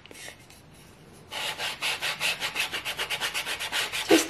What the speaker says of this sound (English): let's grab our sanding block. Okay, I'm just gonna go around the edges